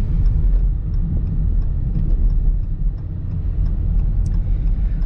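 A 2017 Dodge Charger RT is driven through a turn at night. A loud, steady low engine and road rumble fills the cabin throughout, with no talking.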